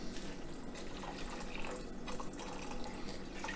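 Water poured steadily into a pot for cooking purple hull peas with salt meat, a continuous splashing stream close by with no talk, three cups added in one unbroken pour.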